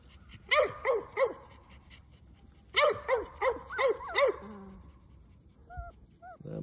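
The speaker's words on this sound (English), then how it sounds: "That's my little puppy." A puppy gives a quick run of three sharp barks, pauses, then yaps five more times close by, followed by a couple of faint high whimpers.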